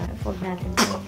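One sharp, close sneeze bursts out right after a short spoken phrase, during a baby-care routine at home.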